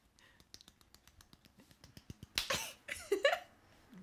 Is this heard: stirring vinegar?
no